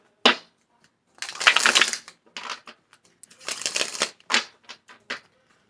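Bursts of rapid riffling card shuffles close by, several quick flurries separated by short pauses, with brief taps between.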